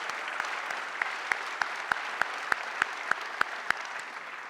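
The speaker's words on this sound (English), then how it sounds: "how about another round of applause for your teachers and advisors?" Audience at a SkillsUSA career expo opening ceremony clapping for teachers and advisors, a dense steady round of applause with a few sharper individual claps standing out, no talking.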